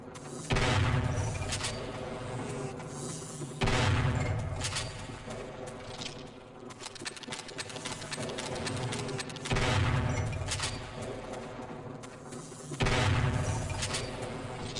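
Repeated shock rifle fire from Half-Life: Opposing Force, loud bursts of crackling electric blasts arriving in several heavy bursts over sustained game noise, with no talking.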